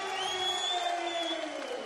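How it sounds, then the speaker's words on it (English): An arena crowd at an MMA bout between Anderson Silva and Lee Murray cheers and applauds in a steady, dense roar, with whistles rising above it for a brief stretch. "Superb applause here for Lee"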